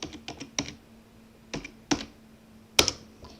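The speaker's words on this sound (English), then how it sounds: "now we can type in NeoFetch." Keystrokes on a computer keyboard enter a command at a Linux terminal, a close, quick patter of clicks in small clusters, ending with one sharper strike.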